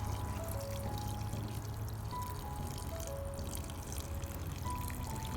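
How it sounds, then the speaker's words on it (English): Water poured gently and steadily into a fish tank holding young fry: a continuous soft, close pouring rush with a faint steady hum beneath. "try to let a little bit of water go over here before I do that, so I don't murk up the water."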